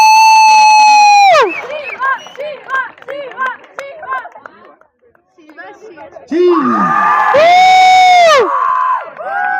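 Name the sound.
crowd cheering at prize distribution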